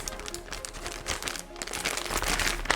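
Close crinkling and rustling of plastic as a bag holding chicken and marinade is handled and pressed shut, with brief scrunching bursts throughout and no clear talking.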